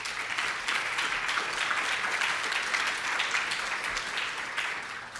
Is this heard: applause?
yes